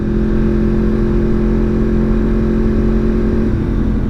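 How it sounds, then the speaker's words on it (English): Yamaha R1 motorcycle with a cross-plane crank engine, a loud, close, steady engine drone holding an even pitch throughout. "I know the cross-plane crank motor does sound a bit V4-ish"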